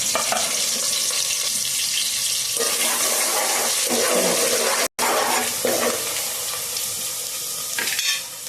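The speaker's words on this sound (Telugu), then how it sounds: "ఉల్లిపాయలు, పచ్చిమిరపకాయలు ఈ రెండు బాగా ఎర్రగా ఏగేదాకైతే వేయించుకుందాం." Sliced onions and green chillies frying in hot oil, a loud close sizzle with bursts of stirring and scraping in the pan, a brief cut midway, no voices.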